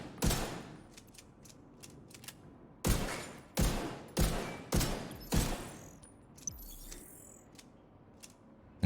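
Several loud, close gunshot bursts from The Division 2 video game, with a scattered early volley, then a fast sequence of five heavy shots, a brief reload-like clatter following.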